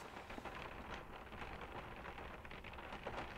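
Steady rain falls on a cold, windy night around a Toyota Land Cruiser, a dense continuous patter with small drop clicks throughout, no voices.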